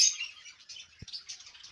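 Budgies in a breeding farm keep up a dense, continuous chorus of high chirps and twitters, fairly close, with a single brief low thump about a second in.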